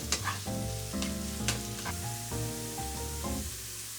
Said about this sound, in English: Let's add the carrots and shiitake mushrooms and cook for 3 to 4 minutes, stirring occasionally.